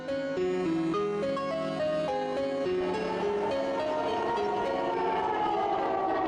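An alarm siren blares in a video game, a loud, sustained wail that climbs and falls in stepped tones and fills the whole clip.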